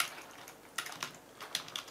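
Short bursts of typing on a computer keyboard, a few quiet clustered key clicks with brief pauses between them, close and soft in a quiet room with no voice.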